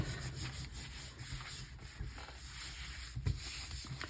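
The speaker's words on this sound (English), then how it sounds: "We'll rub them all good to make sure we pick up all that paint." A hand rubs paper over a gelli plate to lift paint, making a soft, steady scratchy rubbing that continues throughout at close range with a few slightly louder strokes.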